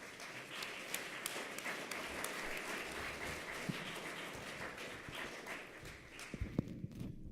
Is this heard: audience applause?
yes